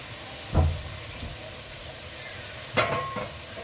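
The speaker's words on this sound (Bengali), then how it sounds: "আলুগুলো ভাজা হয়ে গেছে," Potatoes fry in hot oil with a continuous moderate sizzle, broken by a couple of brief stirring scrapes, with no voices.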